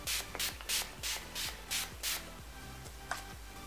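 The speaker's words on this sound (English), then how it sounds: "I'm just going to spray my Mario Badescu rose water spray everywhere" A Mario Badescu rose water facial spray mists onto a face in a quick run of about eight short, close hissing spritzes, evenly spaced with a low hum underneath.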